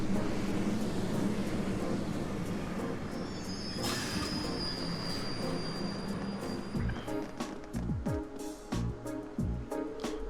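A video game train pulls into a station with a long rumbling roll, a thin wheel squeal, then rhythmic clacks and clunks as it slows, heard at moderate distance without talk.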